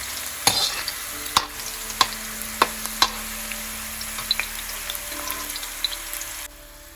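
Lemon pickle ingredients fry in a hot Kerala-style iron kadai, a steady soft sizzle broken by sharp stirring clicks and taps of the spoon against the pan, no voices.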